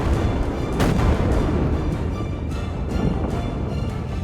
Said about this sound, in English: Begin the orbital bombardment.